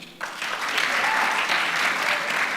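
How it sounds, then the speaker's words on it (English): An audience at a national research festival breaks into sudden, loud applause, many hands clapping densely and steadily after a brief quiet start, with no voices over it. "Can you clap for him?"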